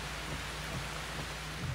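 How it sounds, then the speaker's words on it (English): Soft, steady rain falls in Costa Rica with an even hiss, fairly quiet and continuous, no voices. "it continued to rain as I got to the Bushmaster Project headquarters"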